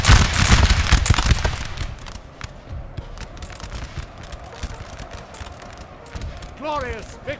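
Musket volleys crackle in a Napoleon Total War battle, a dense burst of shots at the start that thins into scattered pops, with a commander talking and a short horn-like call near the end.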